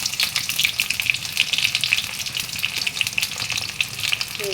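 Onions fry in hot oil in a kadai with a continuous close sizzle and irregular crackling pops, steady throughout with no talking.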